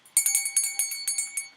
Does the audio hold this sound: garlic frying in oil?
no